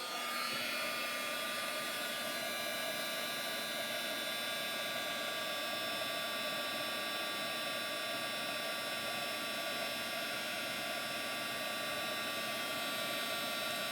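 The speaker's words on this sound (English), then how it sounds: "heat gun, excuse the noise." A heat gun blows a steady, loud whooshing roar throughout, a constant airflow drone with a faint whine and no breaks, used to dry watercolor paint.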